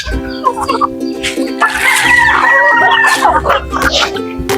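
Native chickens, hens and chicks, cluck and call near at hand in a loud, busy flock, with a voice speaking over the birds.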